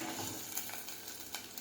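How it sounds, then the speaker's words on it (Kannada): Ginger and garlic fry in a pan for a cauliflower and egg curry, giving a steady, fairly quiet sizzle with a few soft stirring scrapes and no voices. "ಶುಂಠಿ ಬೆಳ್ಳುಳ್ಳಿ ಚೆನ್ನಾಗಿ ಫ್ರೈ ಆಗಬೇಕು."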